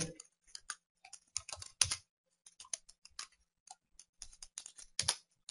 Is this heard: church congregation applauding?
no